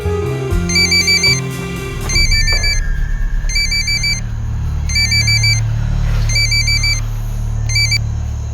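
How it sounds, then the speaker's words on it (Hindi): A mobile phone rings on an outgoing call, several evenly spaced bursts of a repeating electronic ringtone over a low rumble of traffic and engine noise. "रिंग जा रही है सर, मोबाइल सेम है, सिम कार्ड नया है।"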